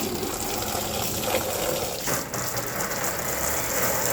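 Continuous spray of water splashing steadily over a Kia Sportage's plastic fender liner and splash shield, a dense hiss with a brief dip midway, no voices.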